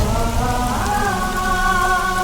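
Heavy rain pours down in a dense, constant hiss, steady and loud for the whole stretch, with a faint tonal hum running underneath and no speech.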